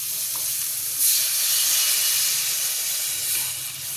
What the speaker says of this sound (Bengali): এবার আমি মিক্সির জার দিয়ে সামান্য একটু জল এর মধ্যে দিয়ে দেবো।